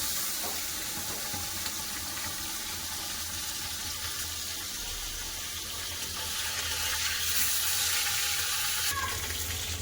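Fish frying in a kadai of very hot mustard oil, a dense continuous hiss and sizzle that holds steady throughout, close and fairly loud, with no voices.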